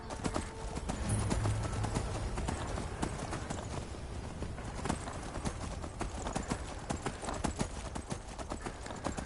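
Horse hooves clip-clop steadily and fairly close in a fantasy game world, a continuous trotting rhythm over faint background ambience with no talking.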